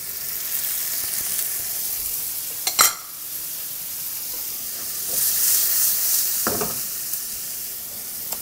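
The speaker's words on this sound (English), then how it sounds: "Lemon juice, deglaze." Lemon juice hits a hot pan to deglaze it for ricotta lemon farfalle, bursting into a bright steamy hiss with a couple of sharp spikes and a steady sizzle that swells again later, close and alone.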